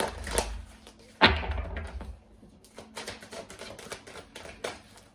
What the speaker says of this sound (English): It's a terrible shuffle.